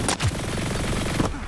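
Rapid bursts of gunfire in the battle-royale shooter Hyper Scape, a dense rattling stream of shots with brief louder cracks near the start and end.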